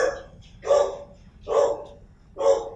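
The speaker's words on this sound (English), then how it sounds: "The dog heard something outside." A dog barks three times in a slow, evenly spaced series, each bark clear and fairly close over quiet room hum, with no talking.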